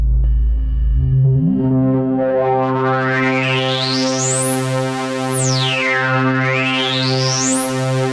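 A resonant Korg Volca Keys synth tone whose filter sweeps in audible discrete steps, rising and falling with a sharp whistling peak, thick with chorus, echo and delay.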